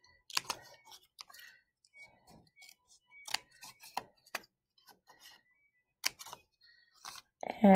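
Scissors snip paper for a collage letter, a run of short, crisp, close cuts spaced by quiet pauses, with a voice coming in at the very end.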